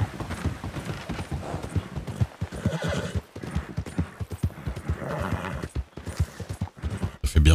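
A horse in the video game Red Dead trots toward Saint-Denis with a steady clip-clop of hooves and a neigh, up close and fairly loud.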